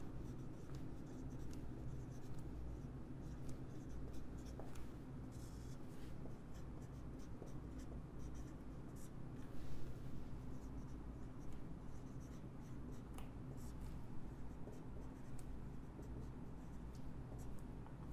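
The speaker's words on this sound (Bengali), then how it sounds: "আমি এটা পুরোটা লিখে ফেলতেছি আবার" Marker or chalk scratches and taps across a board in a classroom, making continuous faint scraping strokes with short clicks over low background hum, and no talk.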